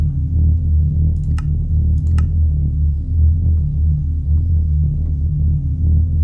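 A fusion reactor running in the Minecraft FTB Revelations modpack gives off a loud, steady low throbbing hum with a pulsing drone, broken by a couple of brief faint clicks and no speech.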